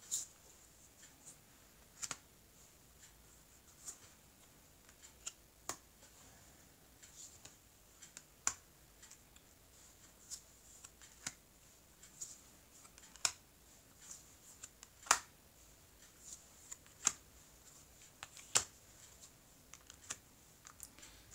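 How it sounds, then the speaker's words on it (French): Tarot cards being cut and put back together into a deck, heard as faint, sparse taps and soft snaps at irregular intervals in a quiet room. "Je vais couper les cartes et je vais recouvrir le jeu."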